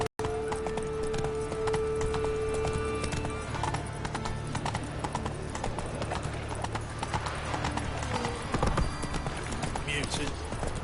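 Steady clip-clop of a horse's hooves at a trot in the video game Witcher 3, continuous and fairly close, with a voice speaking over it and game ambience underneath.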